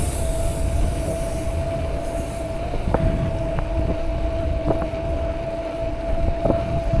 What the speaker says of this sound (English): I can hear the motor a little bit now.